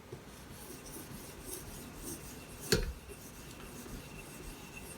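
A Benchmade Bushcrafter 162 knife blade rubbed against a 1000-grit Hapstone sharpening stone, a soft continuous scraping hiss with one sharper click midway, close and alone.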